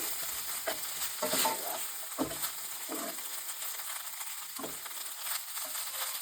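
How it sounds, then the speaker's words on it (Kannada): Flattened rice (avalakki) fries in ghee for sweet pongal, a steady close sizzle broken by several scraping stirs of a spoon against the pan. "ಎರಡು ನಿಮಿಷ ಅವಲಕ್ಕಿನೂ ಹಾಗೆ ಫ್ರೈ ಮಾಡ್ಕೊಳ್ಳಿ."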